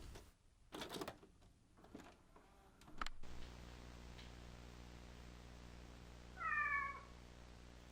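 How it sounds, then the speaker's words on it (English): Cat meowing in the video game Kentucky Route Zero, a single short meow from a quiet ambient scene with a low steady hum and a few earlier clicks and thumps. "There's a little kitty."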